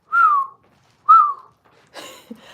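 Whistling in a song playing in the background, two clear descending whistled notes about a second apart, loud and alone, followed by a brief burst of other sound.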